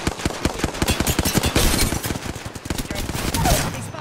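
Rapid automatic gunfire in the Apex Legends video game, dense bursts of sharp shots crackling over several seconds, with a player's voice talking underneath.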